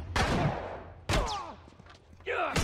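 Gunfire in The Last of Us, several sharp loud shots spaced about a second apart, each with a trailing ring, a voice talking faintly between them.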